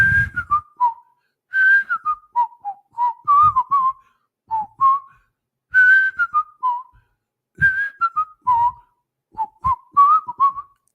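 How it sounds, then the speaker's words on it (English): A person whistles the Andy Griffith Show theme tune, a bright, clear melody in short phrases with brief pauses between, close and alone with no talk. "Andy Griffin walking down the street whistling"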